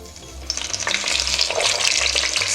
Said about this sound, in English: sear your rolls on all sides.